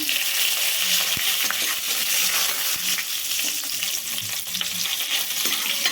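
Asafoetida, dried red chillies and curry leaves frying in hot oil give a dense, continuous close-up sizzle, with occasional small pops and light utensil ticks throughout.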